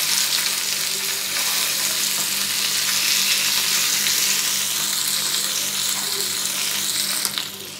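Rui fish sizzling in hot mustard oil in a pan, a steady dense frying hiss that runs close and loud throughout with faint clinks of utensils near the end.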